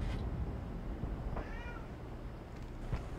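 A cat gives a single clear meow in the middle, with faint softer sounds around it over a low room hum and no voices.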